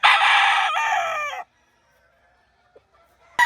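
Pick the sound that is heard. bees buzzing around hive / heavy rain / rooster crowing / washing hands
rooster crowing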